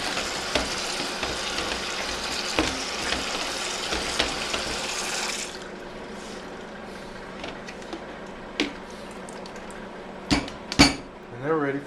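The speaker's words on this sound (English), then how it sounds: "I'm going to rinse them off one more time real quick." Split peas are rinsed under a running tap, a steady rush of water for about five seconds, then the tap stops and a few clinks and knocks of a pot and utensils follow at close range.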